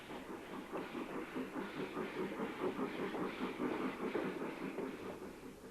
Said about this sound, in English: It is time to board the narrow-gauge train for the 40-minute run out to Southwold.